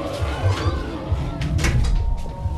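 A door in an office scene of a hacker film is pulled shut with a muffled knock, heard amid a dense layer of background sound with no clear speech.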